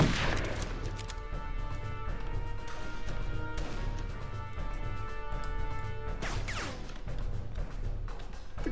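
Shotgun and other gunfire in the shooter game Darkest of Days, a dense stream of loud crashing shots and impacts over a constant low rumble and a sustained musical drone, with a heavier blast near the end; no speech.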